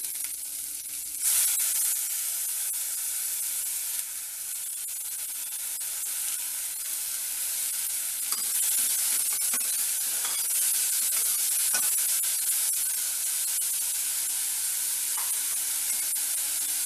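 Ground masala paste sizzles and fries steadily in a pan, a loud continuous hiss with faint scrapes of stirring over the top and no talking.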